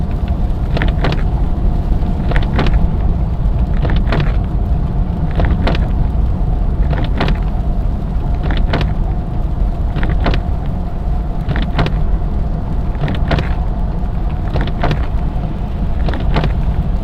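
Freezing rain and ice pelt a car windshield during a winter storm, making a dense, continuous hiss punctuated by sharp knocks that recur roughly every second and a half.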